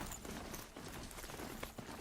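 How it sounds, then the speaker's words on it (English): Rapid, steady clip-clop of horse hooves while riding in a video game, a dense continuous gallop rhythm at moderate level with no talk over it. "This game is really just a horse riding simulator."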